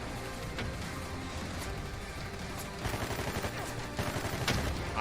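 Rocket launchers fire in the Project Evo survival video game during a raid on iron barricades and walls, a dense run of booming blasts and crackling gunfire over a constant roar, with heavier impacts bunching toward the end.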